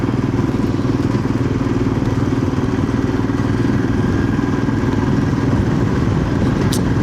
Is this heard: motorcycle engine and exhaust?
yes